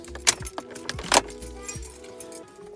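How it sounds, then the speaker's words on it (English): A 2015 or later Subaru WRX with its ignition key being turned off, close-up metallic key jangling in several quick bursts with a faint electronic tone and some background sound. "Please turn ignition key to the off position for at least 15 seconds before starting the vehicle."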